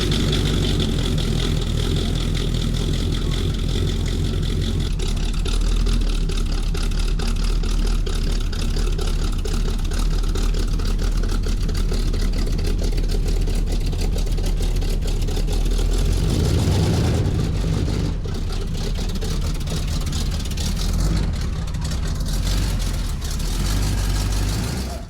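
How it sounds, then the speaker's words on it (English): An old car idles steadily in a driveway with a louder than normal exhaust from worn, poorly welded joints, giving a continuous low rumble that stays close and loud throughout, with no talking. "I had noticed that my exhaust was a bit louder than normal"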